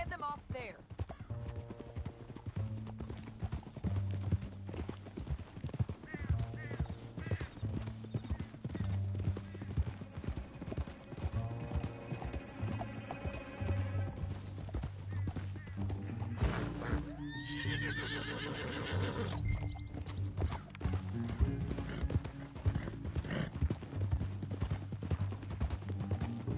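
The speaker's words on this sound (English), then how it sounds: "Up here, get off your horse." Steady clip-clopping of horse hooves throughout, with a horse neighing partway through and voices talking over the scene.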